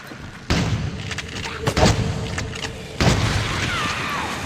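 Crates shot and blown apart in The Suffering video game, heard as a loud boom at the start, a heavy thudding impact around the middle and a second blast near the end, with game ambience continuing in between.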